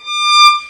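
A single bowed violin note sounds briefly, clear and bright, swelling slightly and then fading.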